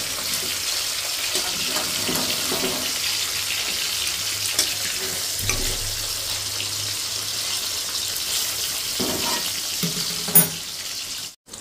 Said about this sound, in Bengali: এখন আমি আরেকটা সাইড ভাজার জন্য মাছটাকে উল্টিয়ে দিচ্ছি